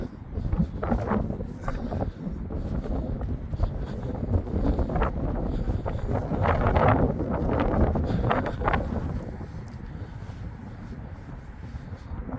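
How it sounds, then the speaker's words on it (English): Strong wind buffets the microphone in gusts, rumbling loudly and easing off toward the end, with faint rustling underneath. "Another windy day,"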